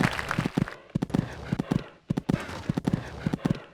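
Rhythmic hoofbeats of a horse galloping and jumping in the Equestriad 2001 horse game, a close, even clip-clop in repeating groups of strikes with a short pause partway through.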